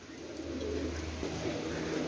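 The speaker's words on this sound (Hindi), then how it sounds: "यह देखो, यह कबूतर है भाई" Pigeons coo softly at a breeder's loft in Jhelum, low murmuring calls repeating through a steady background hum, with no speech over them.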